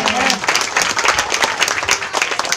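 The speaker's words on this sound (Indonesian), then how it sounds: "Berikan tepuk tangan sekali lagi buat Tuhan." A church congregation at an Easter revival service in Tanjung Balai Karimun bursts into loud, dense applause, sustained and close, with voices mixed into the clapping.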